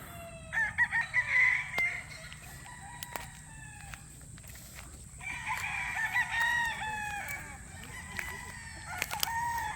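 Roosters and hens on a gamefowl farm, with rooster crows rising over scattered clucking, moderately distant over a quiet outdoor background.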